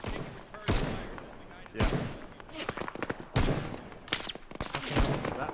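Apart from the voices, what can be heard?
machine gun fire in Arma 3 video game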